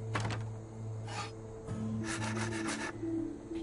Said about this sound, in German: Ich mag das immer in Wimmelbildspielen, den Kram zu sägen.